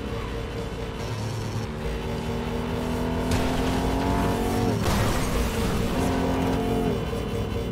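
A loud car engine roars continuously at speed in Cyberpunk 2077, siren on, pitch climbing through gear changes, with a sharp shift midway and steady high-revving drive.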